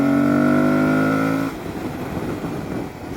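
A 2022 Aprilia Tuareg 660 motorcycle engine holds a steady, loud drone near 4,700 RPM, then the throttle is punched and the tone breaks into a rougher, rising surge that carries to the end.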